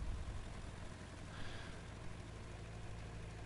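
Tractor engine in Farming Simulator 19 runs at a steady idle throughout, a constant low rumble with a brief brighter whine rising and fading in the middle.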